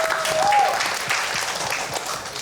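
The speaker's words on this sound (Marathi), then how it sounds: "लास्ट परफॉर्मरसाठी जोरदार टाळ्या मित्रांनो" Strong applause from a live audience at a Marathi comedy stage show, greeting the last performer. The steady, dense clapping fills the whole stretch, with a short whistle-like tone near the start.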